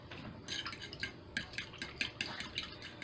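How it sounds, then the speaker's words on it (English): A spoon stirs and scrapes through liver and onions inside a crock pot, making soft repeated wet clinks and scrapes in short bursts. "Just kind of mix that up."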